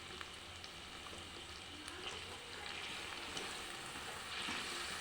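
Pumpkin and potato curry masala with turmeric and cumin frying in a pan, a steady soft sizzle with scraping stir strokes throughout, fairly quiet and close, no talking.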